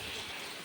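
Heavy, stormy rain pours down at a cow shelter, a steady, close, even hiss with no break through the short stretch.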